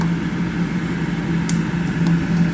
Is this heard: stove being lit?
yes